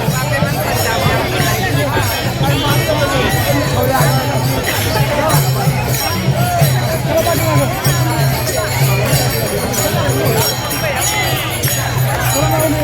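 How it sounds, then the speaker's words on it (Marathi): A dense crowd of pilgrims at the Sant Tukaram Maharaj palkhi procession fills the air with steady babble and chatter, a continuous close hubbub with a voice speaking over it. "श्री संत तुकाराम महाराजांच्या पादुकांचं दर्शन घेण्यासाठी खूप गर्दी आहे खूप प्रमाणामध्ये गर्दी आपल्याला पाहायला मिळते"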